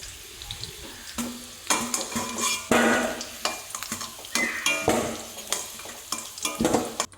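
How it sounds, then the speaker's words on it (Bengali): Potatoes frying in oil are stirred and scooped out of a pan, with repeated scraping clatters of a spatula against metal over a soft steady sizzle. "এদিকে আমার আলুটা লাল লাল করে ভাজা হয়ে গেছে, এখন তুলে নেবো।"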